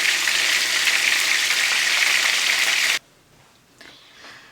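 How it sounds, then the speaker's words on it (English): Coconut rice with kale cooks in a covered pot, giving a loud, even steaming hiss for about three seconds that cuts off abruptly to near quiet with a faint clatter. "This is the rice cooking."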